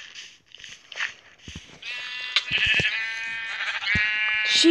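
Sheep bleating in a video game, several wavering bleats in quick succession, loud and close, then a longer sustained bleat over a steady background.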